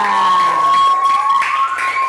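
Audience applause and cheering from a crowd at a teacher-training class session fills the room steadily throughout, a dense continuous wash of clapping with a few voices calling out inside it.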